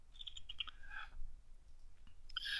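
Quiet clicks of typing on a computer keyboard come in short scattered bursts, close by and soft.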